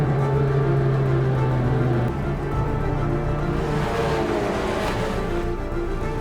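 A Praga R1 race car charges down a straight at about 150 mph on a qualifying lap, a steady roar of engine and wind with a sustained tone that steps down in pitch, blended with broad rushing noise.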